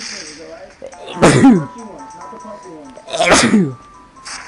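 Two sharp, loud sneezes a couple of seconds apart, close to the listener, with quiet sounds in between.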